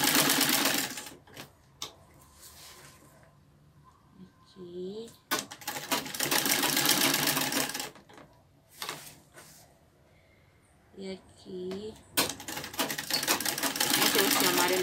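A sewing machine stitches a frilly TNT fabric rug in loud rapid bursts separated by pauses, and someone talks during the quiet gaps.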